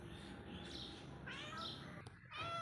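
A house cat meowing for attention, a few drawn-out close mews over a steady background hum, with some speech mixed in.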